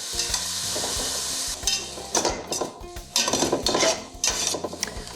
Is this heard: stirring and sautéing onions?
yes